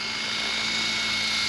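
A Trex 600e RC helicopter's electric motor and rotors whine steadily and loudly, the pitch holding close and continuous with no voices.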